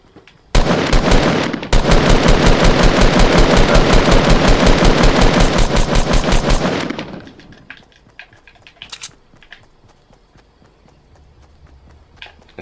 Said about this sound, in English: See the way this weapon shoots.